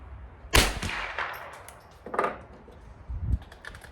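A light-load .22LR round fires from a minimalist survival rifle, giving one sharp, fairly soft crack followed by a few quieter knocks and handling clicks. No voices are heard.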